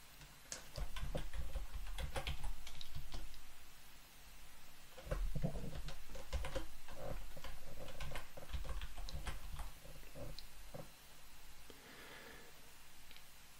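Fingers typing a search word on a computer keyboard, quiet scattered key clicks in short irregular bursts with brief pauses, close by but faint, no talk.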